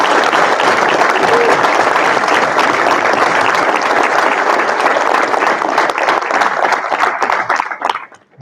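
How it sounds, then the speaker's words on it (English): Loud sustained applause at a public school board meeting, a full room clapping steadily for several seconds before tapering off and fading out at the end. "So let's give David a big round of applause."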